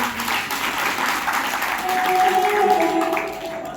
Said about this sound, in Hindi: ताली बजा दो, ताली बजा दो।